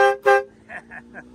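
Two loud, blaring blasts from an aftermarket train horn mounted on a 2023 Ford F-150 Lariat diesel pickup, followed by a few quieter short toots over a faint idle.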